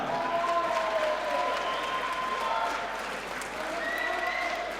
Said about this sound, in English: Ladies and gentlemen, round of applause for both our fighters this evening.